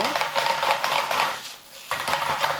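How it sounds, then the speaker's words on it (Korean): Pasta noodles tossed in garlic oil in a pan, with repeated metallic scrapes and clinks of utensils against the pan, a brief lull, then more tossing, close by with no talk. "마늘 오일로 면을 한번 살짝 볶을게요"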